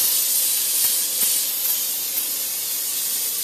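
Engine cleaner sprayed from an aerosol can across a car engine bay, a steady continuous hiss lasting the whole stretch, close and fairly loud with only slight fluctuations.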